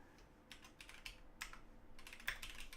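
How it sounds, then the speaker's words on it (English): Someone types on a computer keyboard during a live stream, with quiet, close keystrokes coming in quick irregular bursts and short pauses and no talking. "I'm typing it so just in case you didn't hear it."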